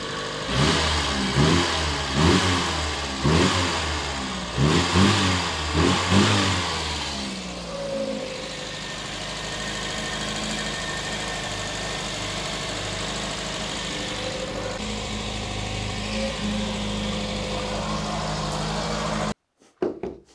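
An Austin Metro engine runs with the choke on, giving a fast idle. It begins with rhythmic revving pulses, then settles into a steady, close mechanical drone until a sudden cutoff near the end.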